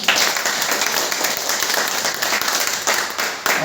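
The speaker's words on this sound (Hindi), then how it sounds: "मैं चाहूंगा इन सभी लोगों के लिए एक बार जोरदार ताली।" Audience applause at a meeting in a hotel hall, a dense steady burst of many hands clapping loudly and continuously throughout, with no talk over it.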